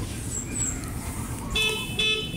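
A Honda Raider 150 motorcycle horn gives two short electric toots, near and clear, over a low background rumble outdoors.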